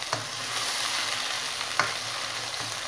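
Ground onion paste sizzles steadily in a pan as it cooks toward golden brown for chicken tikka masala. The frying hiss stays continuous and close, with a couple of brief stirring scrapes.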